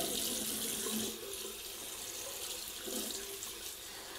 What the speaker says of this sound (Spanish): Le vamos a poner el agüita así templadita y con poca cantidad.